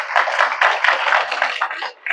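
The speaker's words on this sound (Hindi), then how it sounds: "इसलिए आप सबके लिए खुद तालियां" Lively group clapping from an audience at a spiritual camp session in Chandigarh, dense and close, steady for about two seconds before tapering briefly and resuming.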